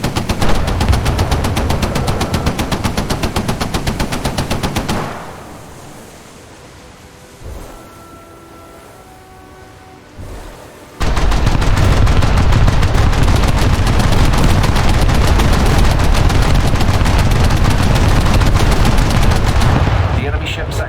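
Motor boat gunners in the War Thunder naval game firing at targets, long loud bursts of rapid machine-gun fire over engine and water noise, broken by a quieter stretch with light tonal game sounds before the firing resumes.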